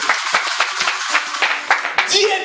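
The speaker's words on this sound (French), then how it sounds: "Vous pouvez acclamer le Seigneur si c'est vrai." A church congregation claps and applauds during a French-language sermon, a steady patter of many hands lasting a couple of seconds, close and lively, with voices mixed in.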